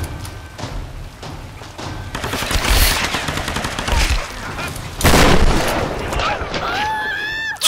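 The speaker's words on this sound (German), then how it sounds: "Ich schieße schon alles voll hier." Gunfire in the video game Tomb Raider, including machine-gun fire, with loud bursts of rapid shots and heavy thuds. The firing is close and dense and later fades under other game sounds.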